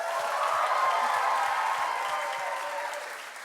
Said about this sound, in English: can we give another round of applause for Desi Beat?